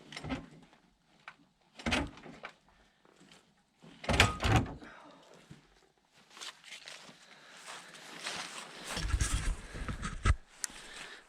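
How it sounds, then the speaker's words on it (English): The cab of a Multicar M25 mini dump truck being tipped forward, heard as a series of heavy metallic clunks and thumps, followed by a longer rumbling shift near the end. "The cab is tipped"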